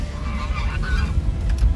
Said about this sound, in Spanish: No sé si son patos, gansos. Son grandes. Sí, y gritones.